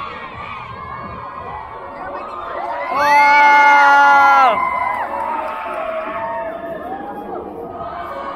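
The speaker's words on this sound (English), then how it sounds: "Like they're actually cheering for the houses" A school crowd at a house championship cheers for the houses; shouting and whooping build into a loud, sustained roar midway before settling back to busy chatter, with a nearby voice exclaiming.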